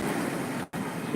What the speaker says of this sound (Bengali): ঢেউটা দেখো এবার